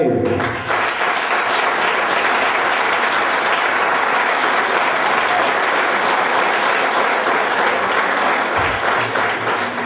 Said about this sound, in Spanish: yo le pido un aplauso para él